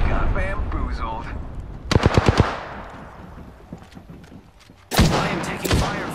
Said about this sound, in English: I am taking fire, friends. Giving my shields a recharge. Shots fired and they're hitting me.